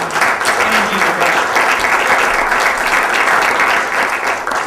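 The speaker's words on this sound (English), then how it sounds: "So big round of applause, because that's an amazing energy reduction." A crowd at a green communities awards ceremony breaks into loud, steady applause that holds evenly throughout before easing slightly at the close.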